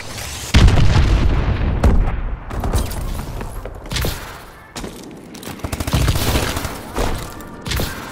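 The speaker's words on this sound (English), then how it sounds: "Enemy missile strikes incoming!" Missile strike explosions in Call of Duty: Advanced Warfare multiplayer, a string of loud booming blasts and rumbling bursts that follow one another closely for several seconds, with heavy low-end impacts.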